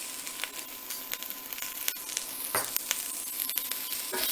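Vegetables sizzling in a pan with salt while being stirred, a steady bright hiss broken by sharp scraping clicks of the utensil against the pan.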